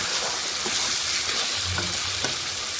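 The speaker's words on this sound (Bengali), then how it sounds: "ভালোভাবে মশলাটা কষাই নিন" Spice paste of tomato and ginger frying in a pan while being stirred, a dense continuous sizzle close by with soft scraping strokes mixed in.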